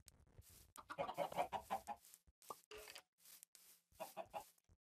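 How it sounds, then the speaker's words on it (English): Several chickens from the Minecraft video game cluck in a quick run of short, bright calls, with gaps between bursts and a few more clucks near the end, fairly close and clear. "You can spawn like four chickens at once."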